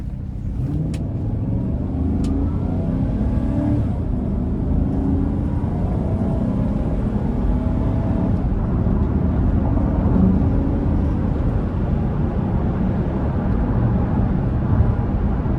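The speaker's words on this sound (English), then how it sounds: "I'm gonna give it a little pull here getting on the interstate" A 2015 Chevy Tahoe LT with a 5.3 V8 and 180,000 miles pulls onto the interstate under moderate throttle, a continuous low engine rumble with rising road and wind noise heard from inside the cabin.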